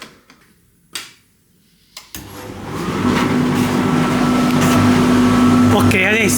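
A Whirlpool condenser clothes dryer, previously scrapped over a faulty capacitor, is powered up: a few clicks and taps come first, then the compressor starts with a steady hum and the drum begins turning, while someone talks over it.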